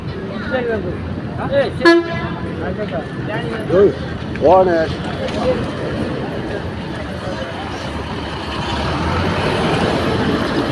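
A city bus at Avadi bus station in Chennai sounds short horn toots, two or three brief blasts over steady station traffic noise while people talk nearby.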